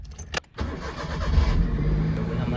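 Maruti 800 car engine starting: a brief starter crank, a moment's pause, then the small engine catches and settles into a close, steady, throbbing idle.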